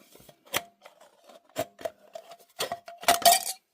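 Scissors snip and crunch through a thin aluminum soda can, making sharp metallic clicks and crinkles in an irregular series that grow denser and louder near the end, close up with no speech.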